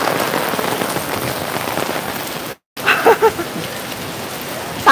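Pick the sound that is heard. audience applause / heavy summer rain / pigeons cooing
heavy summer rain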